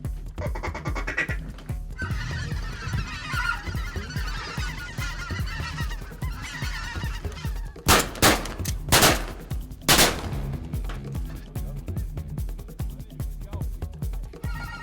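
A flock of white-fronted geese honking over steady background noise, with several sharp, loud bangs near the middle like shotgun blasts, heard from a hunting blind.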